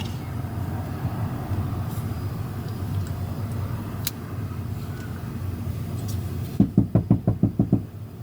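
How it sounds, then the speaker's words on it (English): A burst of about eight quick, loud knocks rapped on a window, close by, following a stretch of low rumbling background noise. "Somebody knocking on my window."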